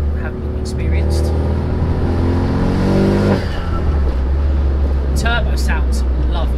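A Renault Megane's turbocharged engine, fitted with a full titanium exhaust, revs hard and climbs in pitch, then drops away with a turbo flutter and whoosh, while a person talks over it.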